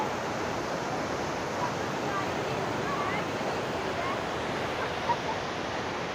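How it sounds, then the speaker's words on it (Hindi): Fast-flowing river water rushing past Head Muhammad Wala, a large barrage canal, a loud, continuous broadband roar with steady wind-like noise and no breaks. "ये बहुत ही स्पीड से पानी ये गुजर रहा है यहाँ पे"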